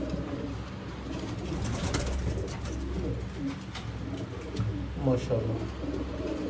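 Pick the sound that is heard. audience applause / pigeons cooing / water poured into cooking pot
pigeons cooing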